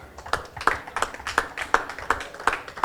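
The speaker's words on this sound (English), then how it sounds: "Another big round of applause, please," Steady, evenly spaced claps at an awards ceremony, about seven sharp hand claps in a regular rhythm, moderately close and alone over a faint room murmur.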